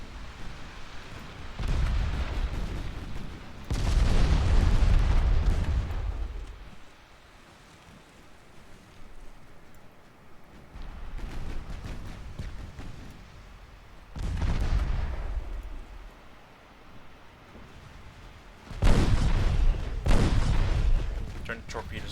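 Incoming 9- and 14-inch naval shells in Ultimate Admiral Dreadnoughts, several deep, rumbling booms and splashes rolling in at intervals over a steady sea-like wash.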